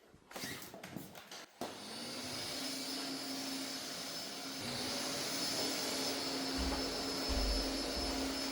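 A vacuum cleaner runs steadily while sweeping a floor at home, starting after a few brief clattering knocks and droning loudly and continuously to the end, with low rumbling bumps near the close.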